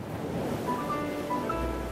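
Open sea washes around a boat carrying refugees in a historical drama, a constant rushing surge of waves with some wind, moderately loud and without speech.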